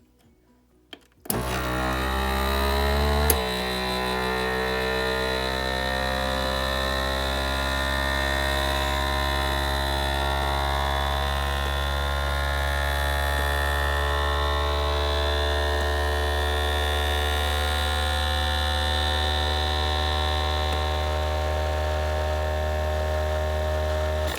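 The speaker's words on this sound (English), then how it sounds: "it's going to get very loud. And it starts getting louder and higher pitched as the air is sucked out" A vacuum sealer motor kicks on with a loud steady hum and whir, sucking air from a bag of baking ingredients, holding a constant droning tone with a faint rising pitch, no voices.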